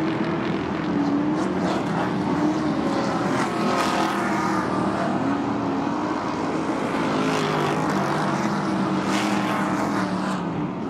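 Super stock trucks race on a dirt track, a steady loud roar of engines sustained throughout, with a few passes swelling louder near the listener.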